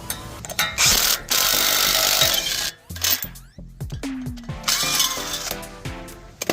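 A bolt is turned with a ratcheting tool to push the brake rotor off a Toyota 4Runner, making close mechanical clicking and metallic ratchet rasps in uneven bursts, with a pause partway through.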